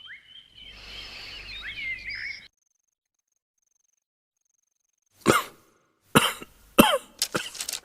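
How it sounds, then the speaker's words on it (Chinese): A man, a king in a palace drama, coughs several times in short harsh bursts, clearly and close, after a stretch of silence; faint birdsong is heard early on. "怎么突然咳嗽起来了？"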